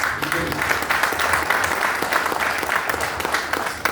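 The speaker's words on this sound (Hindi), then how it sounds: "जोरदार तालियां होना चाहिए।" Steady applause from a crowd, dense clapping sustained for several seconds at an even level.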